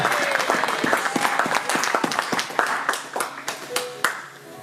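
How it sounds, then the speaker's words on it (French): A church congregation claps and cheers in a burst of applause, dense uneven clapping close in the room that thins toward the end into a few scattered claps. "Aidez-moi à acclamer très bien."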